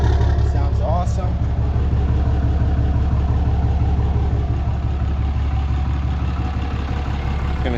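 A Ram 6.7 Cummins diesel on a 4th-gen pickup idles steadily and loud close by through its new exhaust, a constant low rumble that runs unbroken from start to end.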